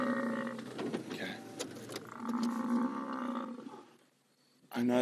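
Buffalo bellowing in distress while lions attack it in the African bush, heard from a vehicle with the engine idling; a loud, drawn-out groaning roar rises and falls, fades briefly, then bursts out again.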